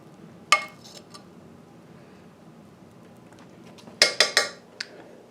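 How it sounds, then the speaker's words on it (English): A fork heaps white rice into a bowl in a home kitchen: a soft clink, then a quick cluster of three sharp metal-on-ceramic taps and a last lighter tick, close and clear over quiet room tone. "I'm just going to use a fork, or you can use one of your large spoons. And I'll just put a nice big heap here in our bowl."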